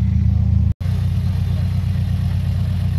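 A car engine with no catalytic converter runs at a steady, loud idle, its low rumble continuous apart from one brief cutout, while a person talks faintly nearby.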